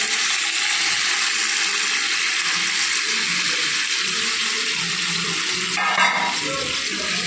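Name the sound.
hot water poured into cauliflower curry in pan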